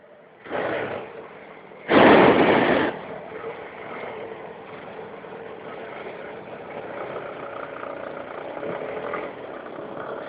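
A Suzuki Bandit 1200 motorcycle engine rumbles steadily at close range, with two loud revving surges near the start before settling into a continuous drone.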